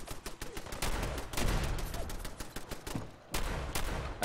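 Rapid gunfire from the Fallout 4 video game during a settlement raid, a dense run of loud repeated shots with a brief pause near the end before the firing resumes.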